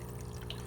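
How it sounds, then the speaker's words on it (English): Aquarium filter outflow in a betta tank striking a cut piece of plastic water bottle set in the overflow to diffuse it, a faint, steady trickle with no talking. "The water hits that piece of plastic and it kind of diffuses the water"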